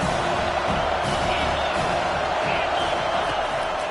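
Dense, steady roar of a stadium crowd at a football game, loud and continuous throughout with no breaks.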